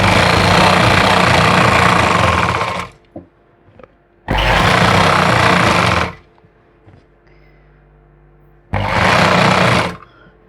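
A sewing machine stitches a salwar in three loud, close bursts of rapid mechanical rattling, each lasting a couple of seconds, with quiet pauses between the runs.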